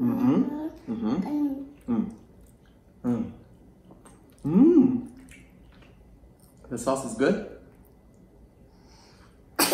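A single sneeze breaks through casual conversation, with people talking before and around it.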